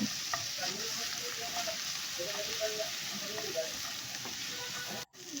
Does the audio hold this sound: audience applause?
no